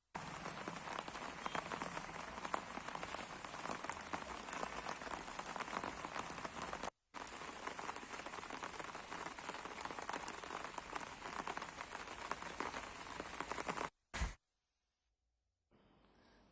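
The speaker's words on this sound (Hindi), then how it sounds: "जैसे लगातार कल से बारिश जारी है" Steady, continuous rain pours down across the whole stretch, a dense hiss of drops on surfaces with two brief dropouts, in Haryana after a day of nonstop rainfall that damaged crops.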